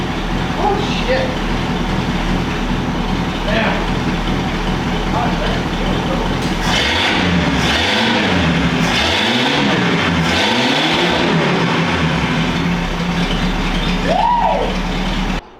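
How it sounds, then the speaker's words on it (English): A 1951 Packard car engine cranks, catches and revs up and down in several swells, loud and close, over a low idle rumble, with people talking nearby and a brief tonal squeal near the end. "We got the car running."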